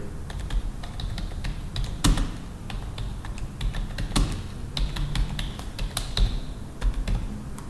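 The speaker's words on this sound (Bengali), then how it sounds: "আমরা এখানে টাইপ করে দেই লটারি নাম্বার জেনারেটর।" Someone types on a computer keyboard, entering text into a PowerPoint text box, with rapid, irregular clicking keystrokes close up and a few sharper taps standing out among them.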